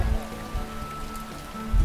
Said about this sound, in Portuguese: dá uma olhada só na chuva que nós estamos pegando no finalzinho do nosso dia em Brodowski